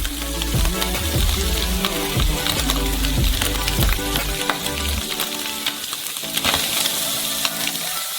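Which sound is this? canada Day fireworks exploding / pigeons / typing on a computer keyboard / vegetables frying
vegetables frying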